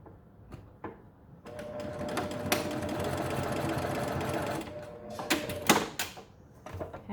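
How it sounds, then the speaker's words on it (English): A sewing machine stitching straight down the ends of a fabric strip for a 3D octagonal face mask, running steadily for a few seconds among brief handling clicks and knocks. "go to your sewing machine and you're going to stitch along the ends"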